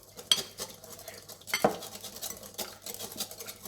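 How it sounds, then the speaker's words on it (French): Whisking a vinaigrette of vinegar, salt and white pepper in a bowl, with a few quick utensil clinks and scraping strokes against the side, close and moderately loud. "Allez, on mélange déjà ça."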